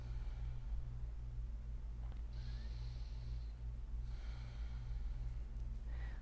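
Slow, deep breaths during a yoga relaxation after a vinyasa flow, soft airy exhales rising and falling twice over a steady low hum.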